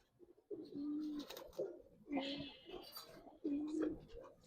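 Coloured Giribaz pigeons coo in a pigeon farm setting, several soft rolling coos repeating close by in short bursts, with a voice speaking briefly among them.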